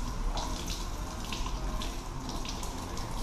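A softened PVC pipe, being shaped into a motorcycle part, is plunged into water, giving a steady close watery rush with bubbling, splashy bursts throughout and no talking.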